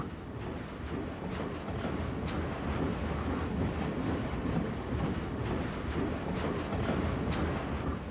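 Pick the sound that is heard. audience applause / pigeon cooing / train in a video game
train in a video game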